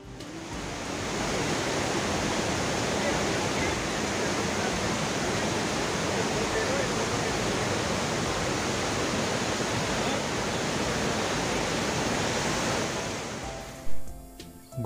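Water released from a dam pours over Hundru Falls in a dense, roaring rush that stays loud and steady, then cuts off abruptly near the end.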